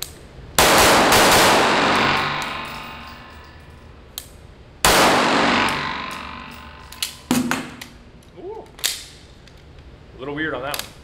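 Two long, loud full-auto bursts from an H&K MP7 submachine gun fitted with a compensator, each a dense roar of rapid shots lasting a few seconds, followed by scattered single clanks and metallic handling sounds.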